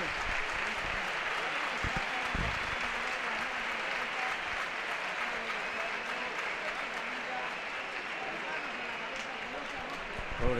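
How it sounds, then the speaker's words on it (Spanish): A stadium crowd at El Sardinero gives a sustained, loud ovation of applause as a football player leaves the pitch during a Racing versus Real Sociedad B match, with commentators talking over it. "Se retira a Markelanz con una ovación cerrada del sardinero."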